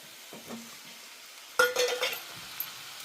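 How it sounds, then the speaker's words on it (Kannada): A spoon stirring potatoes and peas in a pan, a quiet scrape followed by a clear clink of metal on the pan and a few softer scrapes over a faint background hiss. "ಚಮಚ ತೊಗೊಂಡು ಸ್ವಲ್ಪ ಆ ಕಡೆ ಈ ಕಡೆ ನಿಂತು ತಿರುಗಾಡೋನು"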